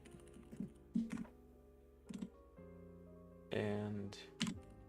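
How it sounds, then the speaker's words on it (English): Keys clack in short bursts as code is typed on a computer keyboard, with irregular clusters of taps separated by pauses, heard close up under a low steady tonal hum. "I like typing things out"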